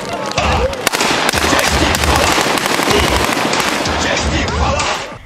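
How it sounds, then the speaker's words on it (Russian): Fireworks and firecrackers crackle densely at a youth celebration in Tver, a loud continuous barrage of sharp pops and bursts that fades slightly at the end. "Какой праздник обходится без салютов и фейерверка?"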